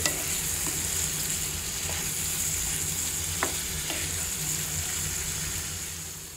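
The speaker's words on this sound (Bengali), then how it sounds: "আরেক চুলায় আমি শুটকিটাকে আগে একটু মশলার মাঝে ভুনা করে নিচ্ছি" Dried fish (shutki) fries in a pan with spices and garlic, a steady close sizzle running throughout with a few light stirring clicks.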